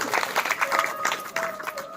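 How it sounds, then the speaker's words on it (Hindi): An audience at a Bhagwat Katha claps in a brief, uneven patter, heard alongside a sustained tone and faint voices. "एक बार इस परिवार के लिए आप ताली, जिसका भी नाम आ रहा है ताली जरूर बजाइए।"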